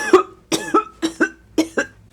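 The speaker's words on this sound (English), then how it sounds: "Ragetti nearly coughed up a lung." A man coughs hard after his first swig of a strong drink: three pairs of harsh, throaty bursts, close and loud, with short gaps between them.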